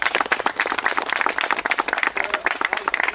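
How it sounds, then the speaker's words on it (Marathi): Audience clapping loudly for a yoga teacher at a felicitation gathering, brisk uneven claps from a modest crowd filling the whole stretch without speech. "तर त्यांच्यासाठी एकदम जोरात टाळ्या."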